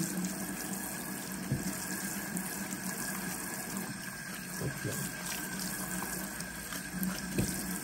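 Tap water runs steadily while hair is wetted in a salon or washbasin, a continuous close splashing hiss with small irregular spatters throughout, no speech.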